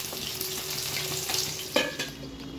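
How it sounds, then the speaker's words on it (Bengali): Fish frying in a pan during a home breakfast cook, giving a steady close sizzling hiss that runs throughout, with a brief clatter and flare of sizzle near the end. "আর এখানে মাছ ভাজা হচ্ছে।"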